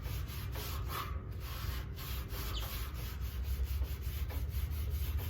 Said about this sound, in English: Put a little bit of this cleaner on the rag here and see if we can't get some of this off.